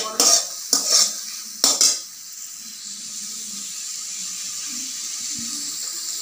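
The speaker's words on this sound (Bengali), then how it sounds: "টমেটো দিয়ে ভালো করে ভেজে নেব।" Tomatoes frying and being stirred in a pan, with three sharp scraping, clattering strokes in the first two seconds, then a steady, soft sizzle and hiss.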